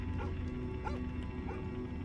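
A dog barks in a horror video game set in a dark house at night, three short yelping barks over a steady droning background hum.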